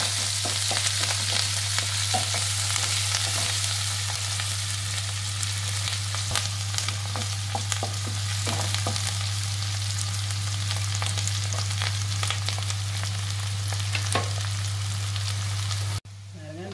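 Onion, curry leaves and green chilli sautéing in a pan, heard as a dense continuous crackle with scattered stirring scrapes under a low steady hum, ending abruptly.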